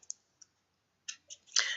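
Computer mouse clicks while selecting a spreadsheet menu option: a few sharp, close, isolated clicks with short gaps, ending in a brief slightly longer burst.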